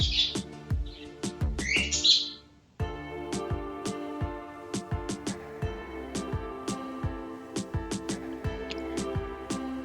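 A thirteen-day-old baby cockatiel begs for food during hand feeding, giving a rapid run of sharp, close chirps and clicks. The calls come in repeated bursts with a brief pause early on, then keep going at a steady, insistent rhythm.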